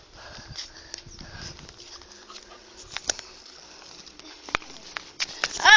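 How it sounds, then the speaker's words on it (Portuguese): A small dog scampers and sniffs close by, with light pattering paws and soft snuffles over a quiet room. "vou filmar o cachorrinho dele brincando"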